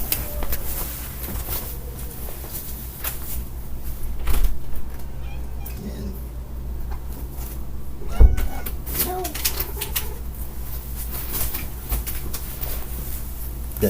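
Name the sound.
cat meowing to get inside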